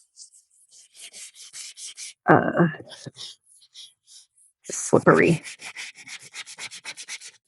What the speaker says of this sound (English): I'm not perfectly sanding it